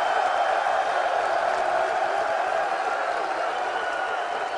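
An audience at a sermon applauds and cheers in a dense, continuous wash of clapping and crowd noise that holds steady for several seconds, with voices mixed in.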